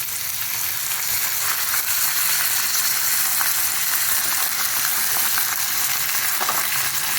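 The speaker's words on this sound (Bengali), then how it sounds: "দিয়ে একটু নাড়াচাড়া করে দিই।" Soaked Dehradun rice tipped into a pan of frying vegetables for veg pulao, sizzling steadily with a bright, dense crackle and faint scrapes of stirring throughout, close and continuous with no talking.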